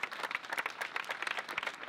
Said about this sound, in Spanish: Que este aplauso le llegue a su alma